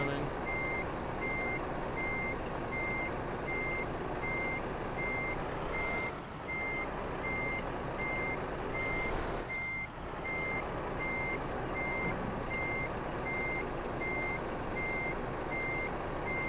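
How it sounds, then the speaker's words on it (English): Steady reversing beeps from a truck backing a trailer in Euro Truck Simulator 2, a regular high-pitched pulse over a continuous low diesel engine rumble, with no talk. "I'm trying to park a trailer."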